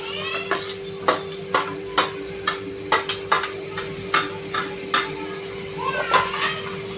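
A metal spoon scrapes and clanks in a pan as tomatoes with spices are stirred and fried for an aloo matar sabzi, giving steady rhythmic knocks roughly every half second over a soft sizzle and a faint background hum.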